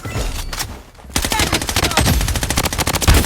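Loud automatic gunfire from an M4A1 rifle in the shooter game Blood Strike: a rapid burst, a short gap, then a longer, dense stream of shots that continues to the end.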